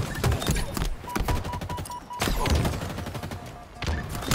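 A grenade blast in a Halo Forge custom game lands as a loud, deep thump among rapid gunfire, with a second heavy burst later in the short, busy stretch of combat.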